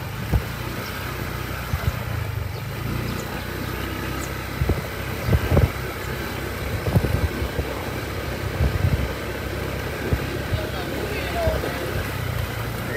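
Road traffic of cars and motorcycles on a newly rehabilitated muddy road in Boracay after heavy rain, a steady rumble of engines with passing vehicles and a constant droning bed of noise throughout.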